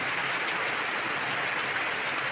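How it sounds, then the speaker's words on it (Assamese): Heavy rain pours down in a steady, dense hiss that fills the whole stretch evenly, close and loud, with no speech over it. "ইমান টানকৈ বৰষুণ দিছে চা আকৌ"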